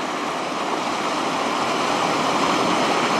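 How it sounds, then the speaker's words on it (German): Water pours steadily over a small built step, a weir in a canal, making a continuous, even rushing and splashing close by, with no voices. "So dieses Wasser, wie das da runterläuft."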